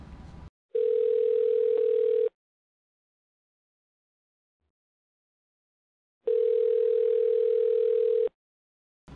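A telephone dial tone plays while a phone call is placed, two long steady tones of about a second and a half each, separated by a silent gap, loud and clear.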